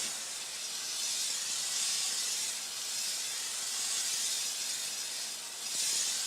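A sandblasting nozzle held close to glass during sandcarving, a steady loud hiss of blasting abrasive with slight swells in intensity, continuous and uninterrupted.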